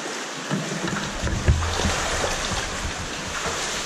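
Someone wading through deep water in a cave stream, with continuous splashing and rushing water, a few louder sloshing surges, echoing in the enclosed space; no talk.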